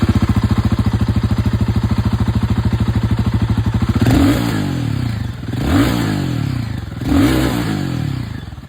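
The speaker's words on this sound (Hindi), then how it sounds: "यहाँ पर जो गुरिल्ला 450 है इसकी भी आवाज़ यहाँ पर सुना दूँ।" A Royal Enfield Guerrilla 450 motorcycle engine idles with a steady, throbbing beat, then revs sharply three times, each rev rising and falling back, loud and close.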